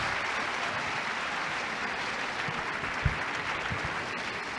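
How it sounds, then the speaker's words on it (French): Lecture-hall audience at a university debate claps steadily and densely, a loud continuous wash of applause with a few sharper claps standing out. "puisque vous m'applaudissez"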